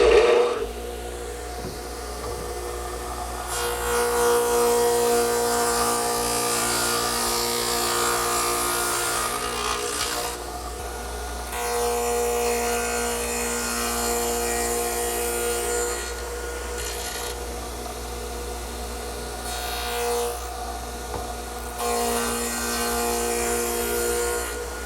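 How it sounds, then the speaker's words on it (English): A stacked dado head cutter on a radial arm saw makes repeated passes through wood for a coffee table, each pass a loud, rough ripping whine over a steady motor hum, separated by short quieter pauses. "I've also put my stacked dado head cutter in the radial arm saw"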